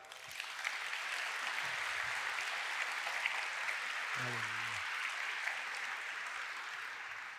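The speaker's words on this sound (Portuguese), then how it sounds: "Vamos aplaudir esse bom Pai" A church congregation applauds after a prayer during a Sunday sermon, a steady, distant wash of many hands clapping that holds evenly for the whole stretch with a brief low tone in the middle.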